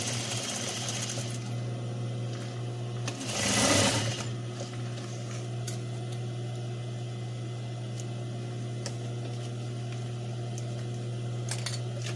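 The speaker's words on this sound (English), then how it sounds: "I'm just gonna sew it to make it easier." A sewing machine stitches fabric for a face mask, running as a steady, close mechanical whir throughout with a brief louder burst near the start and no talking.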